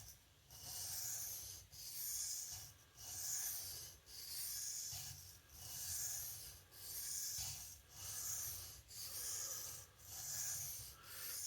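A knife is drawn steadily across a sharpening stone, raising a burr, in slow, even rasping strokes about once every 1.2 seconds, close and fairly quiet with no talking.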